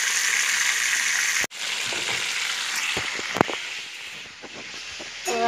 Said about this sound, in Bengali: এখন রোস্টটা ভাজবো